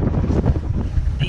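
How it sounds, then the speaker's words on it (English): Strong wind buffets the microphone during Storm Stella, a loud, steady, gusting roar with no talk over it. "the wind's picking up and it's getting really cold"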